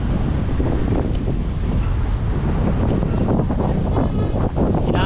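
Strong wind roars steadily across the microphone at Rizal Park (Luneta) in Manila, a loud, continuous buffeting rumble with no pauses.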